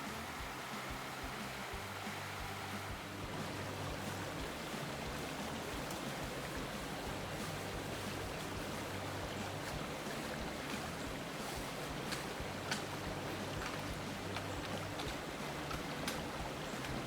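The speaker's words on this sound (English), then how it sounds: "Here's the confluence of Caney Creek and some other creek" Steady rushing water where Caney Creek meets another creek on a wooded Arkansas hiking loop, a continuous broadband babble heard close and even throughout, with no voices.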